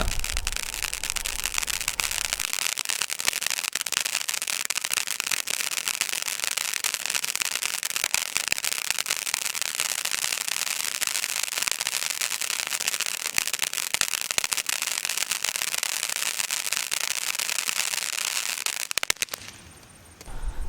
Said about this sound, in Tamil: இப்போ நீங்கள் பார்க்குற டெஸ்டிங் வந்து Sanghamitra fire ஒர்க்ஸுடைய Thunder coconut கிராக்லிங்குடைய testing தான்